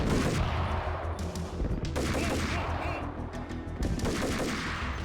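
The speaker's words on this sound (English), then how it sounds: "Please stop shooting." Gunfire in the Max Payne video game, dense overlapping shots in continuous rapid bursts filling the whole stretch, loud and close with a heavy rumbling low end.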